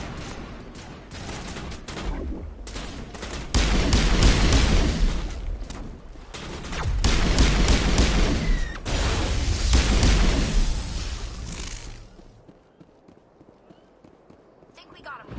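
Squad gunfire aimed at Geth turrets in the sci-fi game Mass Effect comes in heavy rolling bursts with booming thuds. The firing swells and fades under frequent voice chatter before dropping away at the end.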